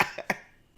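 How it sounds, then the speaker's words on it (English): Two quick, close coughs in a row, the second slightly stronger, each a short rough burst that fades into quiet. "but I coughed for real"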